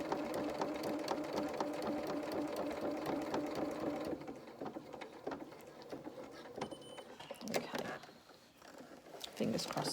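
A sewing machine stitches buttonholes into fabric, running in a fast, steady mechanical rattle that shifts and pauses partway through as the fabric is guided along, close and clear.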